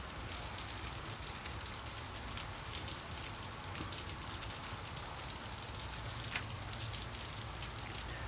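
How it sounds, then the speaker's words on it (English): Heavy rain falls steadily outdoors, a dense, constant hiss of drops with no pauses, moderately loud throughout. "The rain is really coming down"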